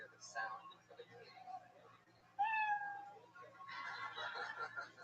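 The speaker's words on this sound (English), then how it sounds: "Performers, you hear the sound of a kitty." A cartoonish kitty meow sound effect rings out as a time-up signal on a comedy stage, loud and close, with a shorter meow before it and crowd noise and talk around it.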